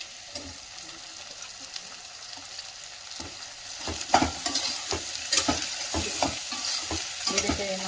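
Chopped ridge gourd frying and being stirred in a pan, a steady sizzle with sharper scraping strokes of a spoon that grow louder and more frequent toward the end, close by with no talking.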